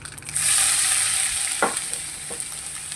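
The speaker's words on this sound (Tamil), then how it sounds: "இப்போ இஞ்சியையும் வெள்ளைப்பூடையும் போடுவோம்" Ginger and garlic drop into hot oil already frying mustard seeds, fennel and spices, setting off a loud bright sizzle with a couple of quick stirring scrapes.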